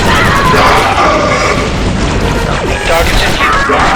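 Grenade explosion in Star Wars: Republic Commando, a loud booming blast with crashing debris and rumble filling the short clip, mixed with battle noise and voices.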